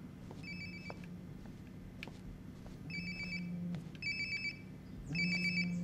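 A mobile phone rings nearby in the video game Life is Strange: Before the Storm, giving four repeated ringtone bursts over a low ambient hum, with no speech.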